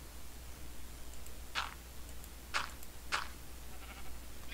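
Sheep in Minecraft bleat three times in short separate calls, fairly faint over a low steady hum, with no talk.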